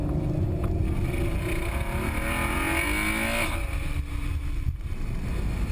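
A Ferrari FF at full throttle gives a loud, sustained engine roar, steady and close for several seconds, with its pitch climbing slightly as it pulls hard.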